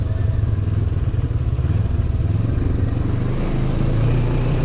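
A 2022 NK 400 motorcycle runs close by with a steady, throbbing mid-range engine note and a faint mechanical clatter, holding an even idle-to-light-rev tone throughout with no voices.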